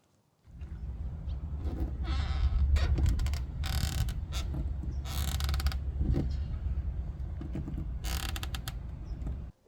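A carbon fiber rear spoiler on a Tesla creaks and crackles when wiggled by hand on its right side, giving several bursts of close, harsh creaking over a low rumbling background.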